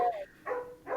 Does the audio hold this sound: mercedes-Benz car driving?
no